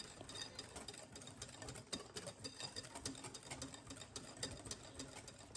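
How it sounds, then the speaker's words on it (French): Apple cake batter with yogurt, sugar and baking powder being mixed, most likely with an electric mixer, making a steady close whirring churn that runs without a break and with no talk. "On mélange à nouveau"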